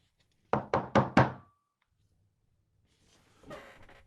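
Four sharp, evenly spaced knocks on a door ring out close by, followed by silence and then a faint shuffle.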